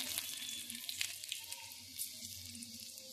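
Cumin seeds and chopped garlic crackle softly in hot oil, a faint, steady sizzle with a few small pops and light stirring clicks, and no talking.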